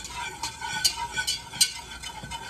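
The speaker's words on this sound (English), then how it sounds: "once we add it in, we're just going to keep stirring it" Flour roux stirred steadily in a pan, a utensil scraping in repeated strokes about every half second over a low sizzle, close and moderately loud with no talking.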